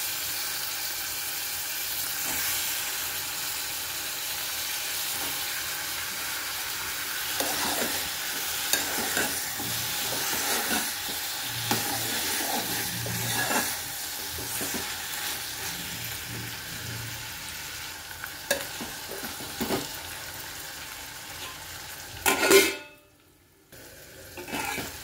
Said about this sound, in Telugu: ఇప్పుడు వంకాయ ముక్కలు వేసేసుకుందాం.